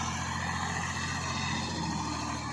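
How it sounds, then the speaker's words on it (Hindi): A tractor engine pulling a plough through a field, a steady droning rumble with a constant tone, fairly loud and close, no speech. "अब ट्रैक्टर इस तरह हाल चला रहा है।"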